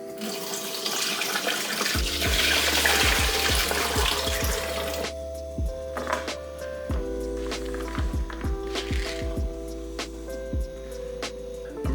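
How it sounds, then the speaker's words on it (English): Brined achocha fruits strained off in a kitchen sink, with water running and splashing steadily under clattering handling noises and light knocks, loud and close. "Strain them off now and then get them stewing."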